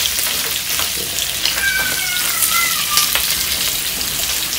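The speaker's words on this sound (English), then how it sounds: "I'm gonna let the pork fry out now." Pork frying out in a pot for Jamaican-style corn pork, a loud dense sizzle and crackle running steadily throughout with faint high whistling tones from the fat.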